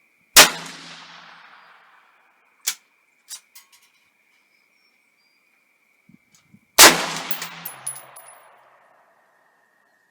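An AR15 rifle firing a 100-grain Sierra Pro Hunter load, with two loud, close gunshots several seconds apart, each ringing out in a long decaying echo, and brief metallic clinks in between.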